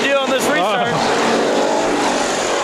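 Street stock race cars roaring away on the Perris Auto Speedway oval at a green-flag restart, loud engines and passing cars with a rising whine early on, while a commentator speaks over the noise.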